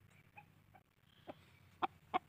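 A Mianwali breed rooster gives a few short, close clucks, the last two sharper and louder, with no speech.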